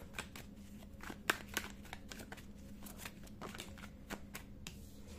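Tarot cards being shuffled by hand, a rapid run of crisp riffling clicks and flicks with a few sharper snaps, close and fairly quiet over a low steady background hum.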